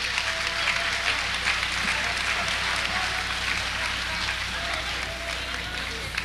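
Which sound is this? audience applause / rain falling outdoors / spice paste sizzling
audience applause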